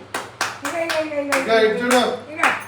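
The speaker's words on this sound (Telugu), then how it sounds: "డాడీ క్లాప్స్ పక్క నుండి" A father claps his hands from the side to encourage a baby, several sharp claps in an uneven rhythm heard close by, interspersed with someone talking and cooing.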